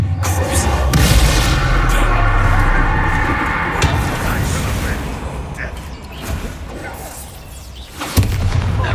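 Bombarda explosion spell in the video game Hogwarts Legacy, heavy booming blasts and thuds rolling through the scene under loud character talk, with a fresh sharp impact near the end.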